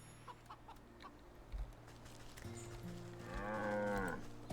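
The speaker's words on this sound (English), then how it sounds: "Hello, cow." A cow in the video game Wytchwood gives a drawn-out moo near the end, rising over a steady hum of game background music with faint ambient sounds earlier.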